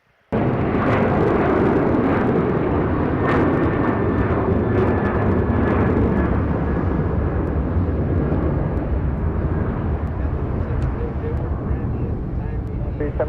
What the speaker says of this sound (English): these are the ones that take off really shallow. The United 737s.